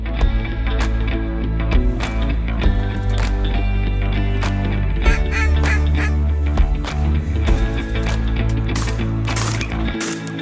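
Puddle ducks such as mallards, wigeon and teal quacking on the Columbia River during a hunt, a dense, steady chorus of calls and honks running through the whole stretch with no talk over it.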